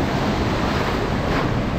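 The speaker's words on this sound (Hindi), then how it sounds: "वाओ वेव्स देखो, वो सर्फिंग कर रहे हैं सामने।" Ocean waves roll in at Suluban Beach in Bali, giving a loud, continuous surf roar mixed with buffeting wind on the microphone and no speech.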